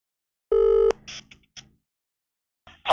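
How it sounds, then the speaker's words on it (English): A telephone takes an incoming call with a single short electronic ring burst. Faint clicks follow, then a brief noise at the end, in an otherwise quiet background. "we've got a phone ringing"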